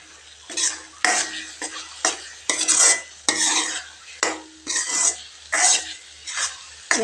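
Pumpkin with cardamom powder is sautéed in a pan, a spoon scraping and stirring in repeated close strokes about every half second over a soft sizzle, with no talking.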